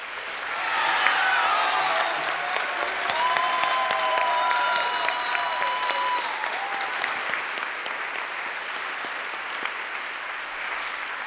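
Sustained audience applause for a prize winner at the 2017 Breakthrough Prize ceremony. Loud, dense clapping from a large crowd swells within the first second and holds steadily for about eleven seconds.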